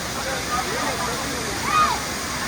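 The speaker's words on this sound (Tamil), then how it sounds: "பெண்கள் குளிக்கிறதுக்கு தகுந்த மாதிரி மிதமான நீர் அங்கே அழகாக விழுது" Hogenakkal waterfall pours steadily into a bathing area after Karnataka rains, a continuous broadband rush of falling water heard close and fairly loud, with a faint tonal trace over it.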